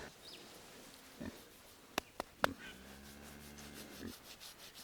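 Farm pigs grunt softly and rub against something nearby, with a few sharp knocks and a longer low grunt standing out against a quiet background.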